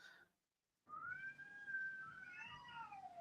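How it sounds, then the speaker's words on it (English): Feral cats screaming outdoors, one drawn-out wailing yowl that rises and bends, fairly distant and faint, after a brief earlier cry and a moment of quiet. "I'm hearing all these cats screaming or something."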